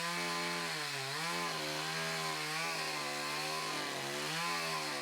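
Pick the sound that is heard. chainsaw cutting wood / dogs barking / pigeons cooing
chainsaw cutting wood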